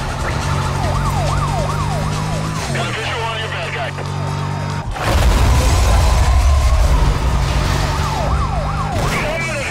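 Police sirens wail in Need for Speed: Most Wanted (Impulse V2 mod), a rising-falling electronic siren looping near and loud over a racing car engine, with a deep heavy rumble and impact midway through.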